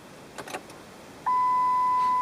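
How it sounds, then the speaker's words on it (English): A car's warning chime sounds with the headlights on and a dying battery: a steady high electronic tone switches on partway through and holds, after some faint handling sounds, with no talk. "The dimming of the lights and the beeping are all indicators that we have a dying battery."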